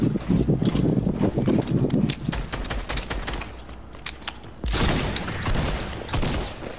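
Fortnite gunfire during a duo-versus-trio arena match: dense bursts of rapid shots, loud and close, easing to scattered cracks before another heavy volley resumes.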